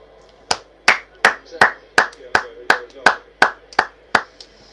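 A single person applauds a substituted Bayern midfielder during an England v Spain Nations League match, giving about eleven sharp, evenly spaced hand claps, close and loud, with no other sound between them.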